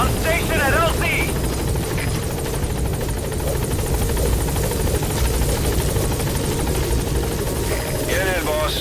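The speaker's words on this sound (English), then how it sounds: "Put Code Talker in the chopper and return to base." A helicopter in a Metal Gear Solid game makes a loud continuous rotor thrum throughout, with brief bursts of speech and radio chatter over it.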